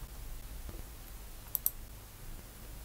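Two quick, faint computer mouse clicks just apart over a quiet hiss, with a couple of softer ticks around them.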